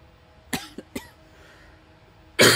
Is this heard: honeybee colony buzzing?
no